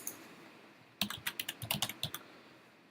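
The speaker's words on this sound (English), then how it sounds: "My typing is so bad." Quick, crisp clatter of typing on a computer keyboard, a rapid burst of about a dozen close keystrokes after a second of quiet room tone.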